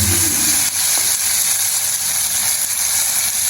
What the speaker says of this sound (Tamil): நல்லா பொரியுது பொரிக்கிறது